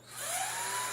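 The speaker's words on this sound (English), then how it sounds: "It's a big old heavy drill" A big, heavy electric drill whirs steadily for about a second while a monster truck is being built, sounding fairly faint with a high, even whine and no voices over it.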